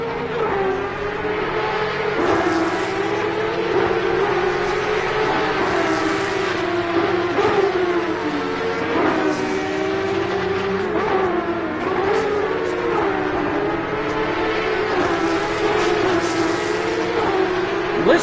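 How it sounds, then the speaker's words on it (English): Porsche Cup race car engines in Assetto Corsa Competizione at Laguna Seca, a steady loud drone of revving engines rising and falling through gear changes for the whole stretch, no talking. "this engine sounds glorious. Such a glorious engine sound."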